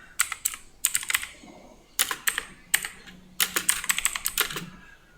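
A computer keyboard being typed on to enter a MySQL console command, close and crisp, in several quick bursts of clattering keystrokes separated by short pauses.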